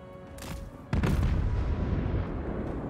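Cannon shots in the fantasy strategy battle game Total War: Warhammer III, a pair of sharp reports followed by a heavy, booming blast that rumbles on, loud and close.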